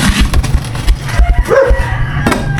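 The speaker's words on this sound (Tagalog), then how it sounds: "maingay yung aso" A dog barks and yips a few times nearby, short sharp calls over a background hum, with a brief whine.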